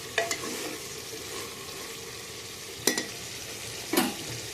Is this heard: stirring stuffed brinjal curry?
yes